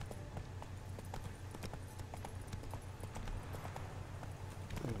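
Roach the horse gallops in The Witcher 3, with quick rhythmic clip-clop hoofbeats thudding steadily and fairly quietly over a low ambient drone.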